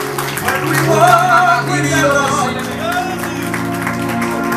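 A church congregation applauds and cheers to acclaim the pastor, sustained clapping and crowd noise with a loud voice speaking over it, steady for a few seconds.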